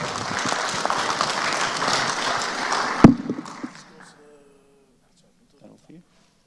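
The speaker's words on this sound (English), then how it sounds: "Let's have a round of applause" A meeting audience applauds in a dense burst of clapping that ends abruptly near the middle. Scattered claps and low talk fade into near silence afterwards.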